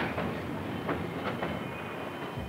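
Freight trains rolling through a railroad classification yard make a steady, loud rumble with faint rhythmic clicks from the wheels. The rail noise carries on without a break and no one speaks.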